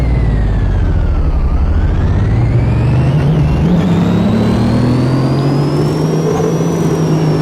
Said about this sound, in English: Whenever it gets really revving, it sounds good.